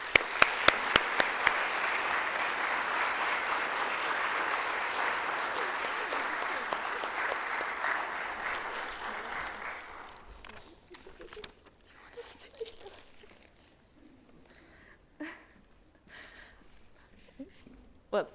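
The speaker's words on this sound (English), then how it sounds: "I want to invite all of you to join me in a warm round of applause" Warm applause from the audience at a moot court competition, a few sharp claps swelling into steady clapping for about ten seconds, then fading into scattered sounds and talk.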